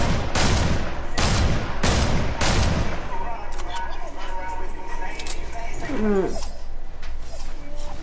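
Rapid bursts of submachine gun fire in a video game crackle loudly in the opening three seconds, several quick volleys in a row, followed by quieter game ambience and a short chirping effect.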